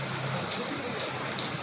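Rain falling outside during an approaching storm, a soft steady patter and wash with occasional brighter drips, fairly quiet and continuous.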